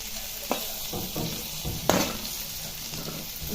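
Green chillies frying in oil with masala, a steady soft sizzle broken by two sharp scraping knocks of a utensil against the pan, close with no voices.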